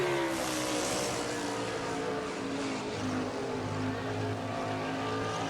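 Race truck engines roar continuously during a short-track race at Lucas Oil Raceway at Indianapolis in a racing video game, heard on board the number 16 Papa John's truck as a loud, sustained drone with shifting pitch.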